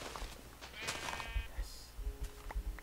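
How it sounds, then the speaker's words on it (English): Sheep in Minecraft bleat faintly a couple of times, mixed with soft footstep-like thumps and some talking. "Oh, over here. Oh. Sheep!"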